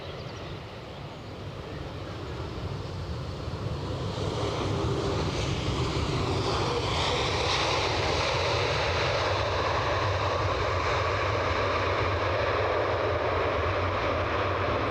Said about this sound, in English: So our second A350 of the show, both courtesy of Qatar Airways.